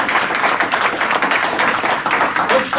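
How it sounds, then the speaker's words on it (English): Group applause from a small gathering, a loud, even patter of hand claps sustained for a few seconds with no talking over it. "Okay, let's give him a round of applause."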